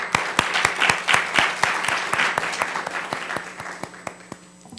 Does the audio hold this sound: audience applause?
yes